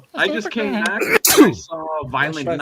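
A single sharp sneeze bursts out in the middle of casual conversation, with voices talking before and after it.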